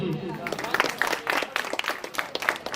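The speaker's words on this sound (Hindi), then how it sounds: "एक बार ताली हो जाए अपने लिए आप सभी दोस्तों के लिए" Audience applause at a computer education institute's annual function: a steady, fairly loud patter of many hands clapping, with some brighter individual claps standing out as the clapping swells and dips.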